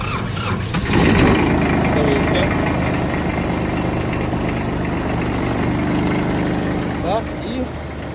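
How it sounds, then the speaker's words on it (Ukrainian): A Yanmar mini tractor engine at a small machinery yard starts with a brief squealing crank, then settles into a steady, loud, close running rumble with a few rattles and squeaks, and someone talks briefly. "Янмар заводиться."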